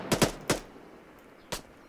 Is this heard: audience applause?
no